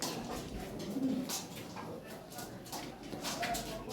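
Lahori pigeons being shown for sale coo softly in a few low, brief calls against a steady background hiss, with a faint voice nearby.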